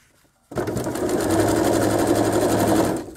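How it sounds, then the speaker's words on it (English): A sewing machine runs steadily for a few seconds, stitching patchwork fabric pieces together edge to edge, starting abruptly after a brief quiet moment with a fast, even mechanical whir. "I'm going to stitch one together from the end."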